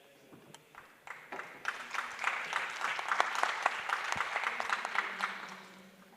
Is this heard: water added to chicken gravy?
no